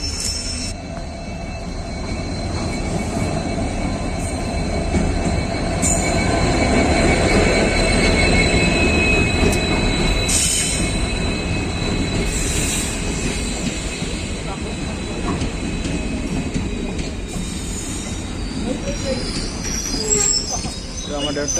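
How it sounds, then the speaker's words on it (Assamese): A train rolls into Sorbhog railway station at night, a steady loud rumble with wheel squeal and rail clatter over some twenty seconds, close by, with occasional sharp squeals and faint voices in the background. "ট্ৰেইনখন সোমাইছে সৰভোগ ষ্টেচনত"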